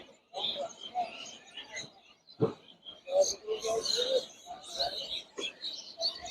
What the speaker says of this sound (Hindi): इस परिसर में सभी यहाँ देख सकते हैं ये चिड़ियों का कौतूहल